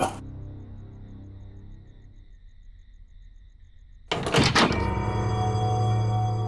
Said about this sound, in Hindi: दरवाजा बंद करता हूं।